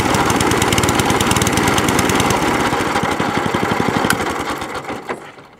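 A Crowcast 14S cylinder lawnmower engine idles up close with a steady, loud rapid chugging, then runs down and cuts out at the end.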